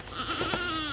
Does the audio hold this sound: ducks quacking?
no